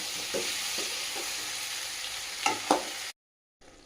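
Radish leaf greens stir-frying in a pan, a steady close sizzle with a couple of louder stirring scrapes near the end before the sound cuts out briefly.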